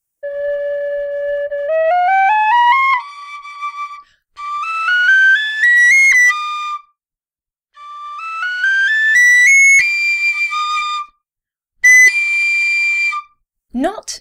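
A Weston wooden whistle with a wooden mouthpiece plays clear, bright rising runs of notes in several separate phrases, climbing toward the top of its range with short pauses between, close and fairly loud, no talking.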